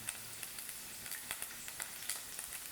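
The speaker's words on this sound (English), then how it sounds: "It really starts to sizzle," Vegetables fry in hot oil with a bright, continuous sizzle, crackling and popping in quick irregular bursts, close and alone.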